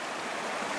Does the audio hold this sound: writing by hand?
no